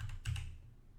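A few quick keystrokes on a computer keyboard as a short command is typed, close and clear, with a slightly heavier press in the middle.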